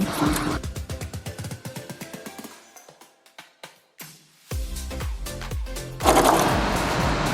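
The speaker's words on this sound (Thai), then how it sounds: "ก็วางเท่ากันเนาะแล้วก็เย็บเส้นหนึ่งเหมือนเดิมนะคะ แล้วก็ย้ำก่อนได้เลย" Sewing machine stitching a straight seam across the bottom of a fabric bag, with rapid rhythmic needle clatter that pauses, restarts in short runs, then speeds up again, loud and close.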